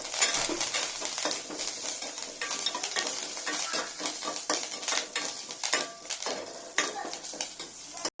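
Mustard seeds, cumin and curry leaves sizzle and crackle in hot oil, with scattered pops and the scrape of a spoon stirring in the pan.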